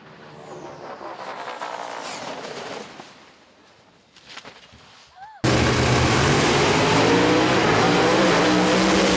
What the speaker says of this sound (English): Carl Baker chops down that tree, and it'll be Carl Baker at the end of the quarter mile.